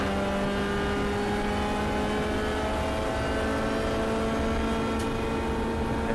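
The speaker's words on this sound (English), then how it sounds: "M235i or whatever it is goes past" Steady, loud engine roar from a BMW M235i race car passing on a circuit during a club relay race, a continuous droning whine with little change, heard from inside another car with no talk.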